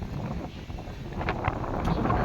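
Gusty storm wind from Cyclone Remal rushes and buffets close to the microphone, producing a steady low rumble with brief rustling swells.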